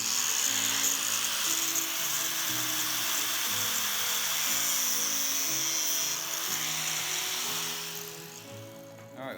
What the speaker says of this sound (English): So cutoff wheel is what we use, and so I already got it marked.